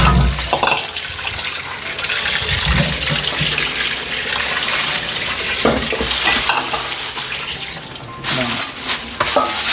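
Tap water running while dishes are washed in a home kitchen, a steady splashing stream with clinks and scrapes of utensils, broken by a short pause near the end, with faint voices in the background.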